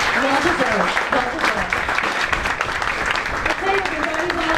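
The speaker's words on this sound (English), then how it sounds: "let's give her one more round of applause." At a chamber of commerce awards event for county public school teachers, a crowd applauds with dense, loud clapping throughout, mixed with cheering and voices.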